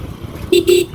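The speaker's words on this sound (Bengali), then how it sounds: "যাও, আমি হর্ন দিচ্ছি, যাও।" A vehicle horn on a road gives two short, loud honks in quick succession, the second slightly longer, over a low traffic rumble.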